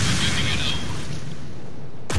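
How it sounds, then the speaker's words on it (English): A nuke detonates in the open-world action game Just Cause 4: a loud, booming blast opens at once and then rolls away into a long, fading roar. "I think that's the biggest explosion in Just Cause 4."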